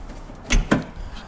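The rear hatch of a Honda Civic being built for all-wheel drive is opened, with two quick close thuds and a latch release, near and fairly loud, then a quiet hum.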